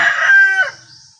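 A single loud, close rooster crow rings out clearly, then trails off into faint background noise.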